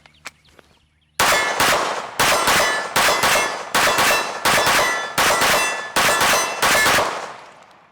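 Rounds from a Springfield Armory DS Prodigy pistol strike steel targets in a rhythmic string of about ten sharp, ringing clangs. Each hit is loud and close, and each ring trails off before the next.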